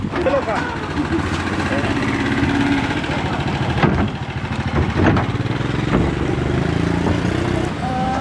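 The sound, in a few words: motorcycle passing by in Laos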